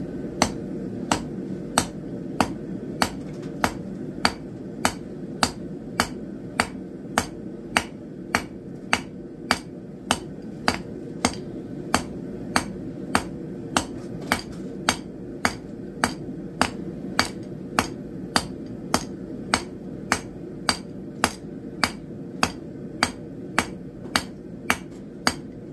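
Hammer striking hot steel to forge the hook end of a swing arm cooker, sharp ringing blows landing in a steady rhythm about every half second over a low background hum, dozens of strikes in a row.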